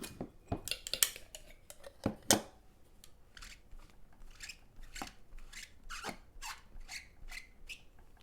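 Repeated close scrubbing and rubbing strokes cleaning a rubber stamp, with scratchy, brushy bursts, starting with a few sharp clacks, continuing steadily with no talking.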